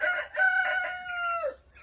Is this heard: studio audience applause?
no